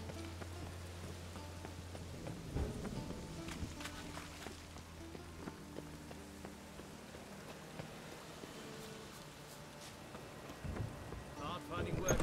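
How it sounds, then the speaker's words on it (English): Rain falling steadily in The Witcher 3 game world, a continuous wash of patter with occasional thumps and low game music, moderately loud throughout. "I like rain. Keeps the rugs indoors."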